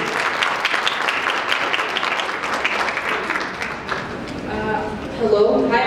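A theatre audience at an opening ceremony applauds a returning performer, with dense clapping close by that thins out toward the end as a voice speaks over it.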